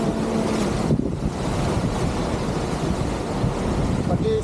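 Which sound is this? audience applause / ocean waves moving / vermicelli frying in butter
ocean waves moving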